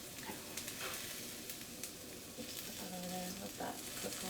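Potatoes sizzle and fry in a pan at a home stove, a steady crackling hiss with light stirring scrapes and soft clinks, moderately close.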